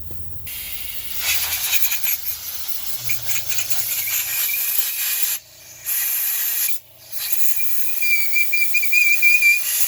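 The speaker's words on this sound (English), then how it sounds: "You got a hole that's whistling." A steady, high-pitched whistle of compressed air hissing through a small hole in a diesel injector nozzle from a 1993 Mercedes-Benz W140, cutting out briefly twice before resuming, with faint rubbing noises underneath.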